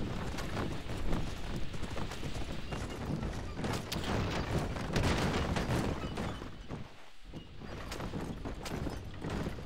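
Horse hooves gallop in Red Dead Redemption, a dense, continuous pounding of clip-clop beats at a fast rhythm, loud and close throughout with game ambience, briefly dipping before resuming.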